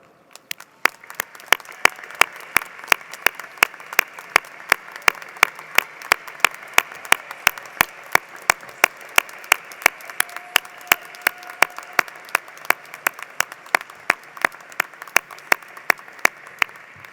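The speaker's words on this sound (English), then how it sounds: "let's have a round of applause for all of you" Steady applause from a large audience at a university commencement ceremony, dense clapping sustained throughout with a few sharper individual claps standing out.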